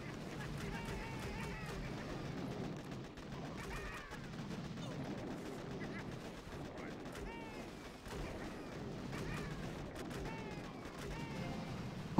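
Continuous gunfire and explosion bursts from the Boom Beach Warships mobile strategy game, dense and steady throughout with game sound effects, while a voice talks over the action.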